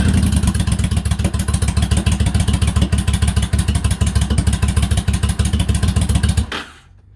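A 2004 Yamaha V-Star 1100 motorcycle, started cold on choke after sitting a while, runs with a loud, fast, lumpy pulsing idle up close before abruptly shutting off.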